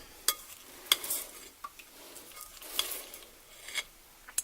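Macaroni salad with chopped onion and minced celery is mixed in a bowl, giving quiet, scattered scraping and soft clicking strokes at an uneven pace, close by and alone.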